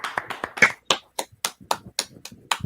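Hands clapping at a Friday night Hebrew language class, about a dozen sharp, fairly close claps in a loose, quick rhythm with no voices over them.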